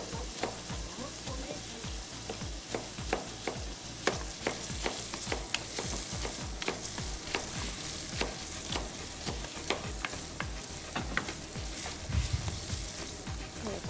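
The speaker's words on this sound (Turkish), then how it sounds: "Havuçlarımız şöyle kavrulmaya başladı." Carrots sauté in a pan for an olive-oil leek dish, a steady close sizzle broken by regular scraping and stirring strokes, with no talk.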